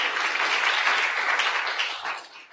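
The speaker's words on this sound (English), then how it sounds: "Give her a round of applause" A conference audience at a national food and health summit applauds, with a dense, even wash of many hands clapping that fades slightly near the end.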